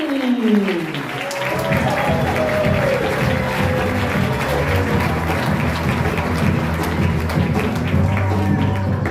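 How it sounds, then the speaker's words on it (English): A comedy-club audience at a Tempe Improv new-comics contest applauds for the next comedian, a dense, steady round of clapping that rises quickly and carries on without a break through the whole stretch. "So let's start clapping for this next guy."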